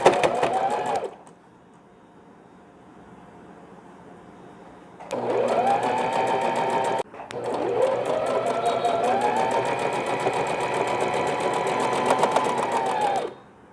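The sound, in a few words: sewing machine stitching baby cap fabric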